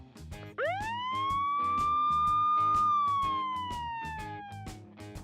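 A Fast Lane toy fire truck from a fire city playset sounds its electronic siren, a loud rising wail that holds and slowly falls over a steady pulsing beat, playing alone and close.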